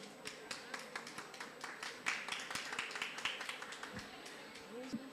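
A church congregation applauding a pastor as she is welcomed, scattered hand claps and taps rising and falling in irregular bursts, moderately close, with a voice talking over parts of it.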